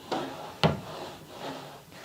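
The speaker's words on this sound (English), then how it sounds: "got a nice smooth opening and closing drawer" A wooden dresser drawer, its tracks freshly waxed, slides open and shut in a few smooth wooden rubbing strokes with a sharper knock in the middle, heard up close without speech.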